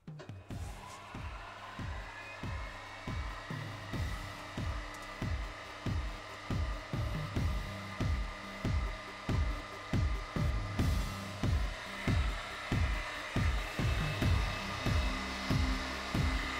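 A CNC flycutter takes a 0.2 mm deep milling cut at a slow 100 mm feed, a steady motor whine carrying a regular rhythmic thump of the cutter striking the workpiece roughly once per revolution, loud and close, with no talking.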